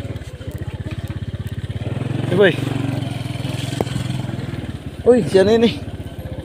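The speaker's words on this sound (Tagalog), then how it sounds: "Pasok ang motor doon." A motorcycle rides in near a river dam at Looc, Nasugbu, Batangas, its steady engine drone running throughout, swelling briefly as it passes, with people talking and calling out over it.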